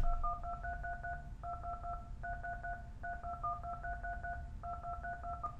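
Telephone keypad DTMF tones generated from a Sound Forge preset beep out the melody of Mary Had a Little Lamb, crisp dual-tone notes in steady rhythmic phrases with short rests, clear and alone over a low background rumble.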